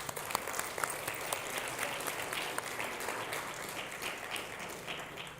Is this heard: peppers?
no